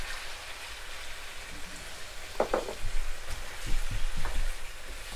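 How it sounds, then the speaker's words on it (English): Soy sauce poured into a hot pan of chicken and broccoli curry, giving a steady hiss of frying with brief louder crackles and spatters as the liquid hits, close and without talk. "So now I'm just gonna add in my soy sauce."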